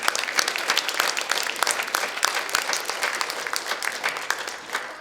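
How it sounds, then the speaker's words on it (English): An audience applauds a speaker named Brother Sutek at a community gathering, giving a dense, steady round of clapping that holds at full strength for the whole stretch without talk. "Give Brother Sutek a round of applause."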